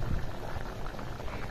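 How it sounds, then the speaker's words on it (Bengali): Chicken curry with potatoes boils in a pot of water, a close, steady bubbling and gurgling of liquid heard alone. "তো দেখুন আমি পানি দিয়ে জাল দিতেছি"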